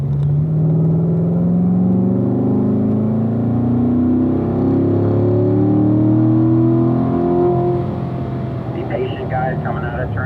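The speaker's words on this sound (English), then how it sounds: "you guys can be pretty aggressive as you unwind out of turn 3" A Corvette Grand Sport accelerating hard out of a turn on a racetrack, its engine note climbing steadily in pitch as it pulls away, loud and close throughout.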